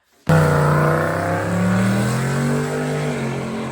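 Single-turbo 302 small block Ford roaring hard under acceleration, engine note climbing steadily as boost builds, loud and close with no voices.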